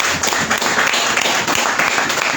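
A church congregation applauding and cheering during a sermon, a dense continuous wash of clapping that stays loud and steady throughout.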